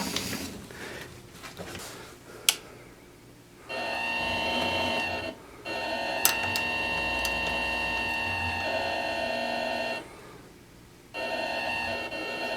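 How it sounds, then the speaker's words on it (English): A lathe engaged in gear with stripped gear teeth grinds in loud, steady bursts of mechanical whine that start and stop several times, separated by quieter idle stretches and a couple of sharp clicks. "I can run the lathe without any of this turning, but when I put it in gear"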